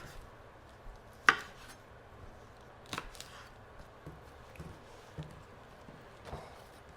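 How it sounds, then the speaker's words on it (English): A knife slices green onions on a cutting board in a quiet kitchen, with a few separate chops and taps spread out unevenly and faint handling noise between them. "these want to be thinly sliced green onions"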